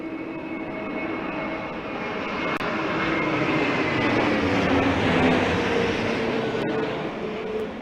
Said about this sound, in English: Aer Lingus A320 Neo. The old Irish know a thing or two about landing in the winds